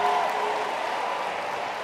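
An audience at a business seminar applauds, a steady, dense wash of clapping that holds evenly and fades slightly toward the end.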